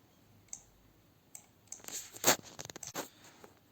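A computer mouse clicks while someone fills in an online form for an ITBP constable GD sports recruitment application: scattered sharp, close clicks, ending in a louder cluster of quick clicks near the end, with no talking.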